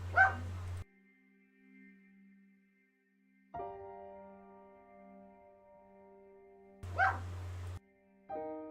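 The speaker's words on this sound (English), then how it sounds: "Oh dear, that's my dog." A pet dog in a home barks twice, each a short, close burst several seconds apart, with faint sustained tonal hums in the quiet stretch between them.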